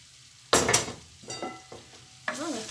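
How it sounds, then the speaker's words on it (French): Onion and lamb in a tagine sizzle as they are turned, with a few short bursts of scraping and frying noise separated by brief quieter pauses. "تقلت l'oignon واللحم نقلبوه."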